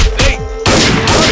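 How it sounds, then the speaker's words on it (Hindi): Gunfire in an action film: a sharp burst, a brief lull, then a heavy crashing blast that leaves a loud, noisy rumble, close and forceful with no speech. "वो गोली चला रहा"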